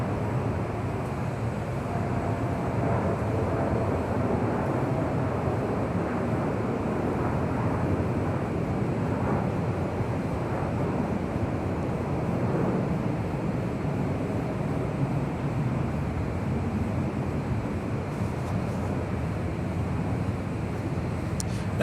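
Airbus A321 landing at LAX on runway 24 right, a broad steady engine roar that holds at an even level throughout, moderately distant, with no talk over it.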